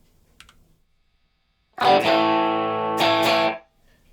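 A burst of heavily distorted electric guitar, a gritty sustained chord ringing for nearly two seconds, re-struck once near the end, then cut off; silence before it.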